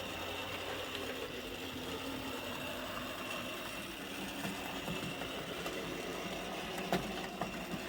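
A model railway locomotive runs quietly on the layout with a steady whirring motor hum and faint track clicks, alone without voices.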